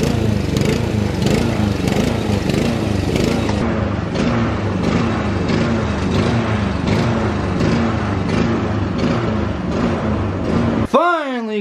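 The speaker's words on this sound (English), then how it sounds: "getting the lawnmower through here. Yeah, it's a little challenging" Lawn mower engine running steadily in a yard, a loud continuous drone with rhythmic load changes as it is pushed through a tight, challenging spot, cutting off abruptly near the end.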